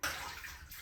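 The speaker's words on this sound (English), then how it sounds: "15 minutes is up, so time to drain the dirty water." Dirty hand-wash water drains from a tub in a short, faint, steady rushing and gurgling flow lasting under a second.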